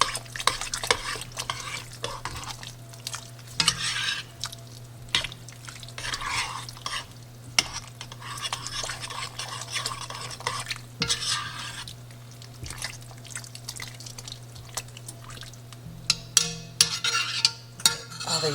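Tomato paste being stirred into a pot of beef stew with onions, a spoon scraping and clacking against the pot in irregular bursts over a steady low hum and faint sizzle, close and alone without talking.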